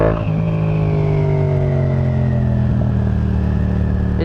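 A 2015 Yamaha FZ07 motorcycle fitted with a Yoshimura exhaust revs loud and close, its engine note falling smoothly as the revs drop, then holding a steady throaty drone.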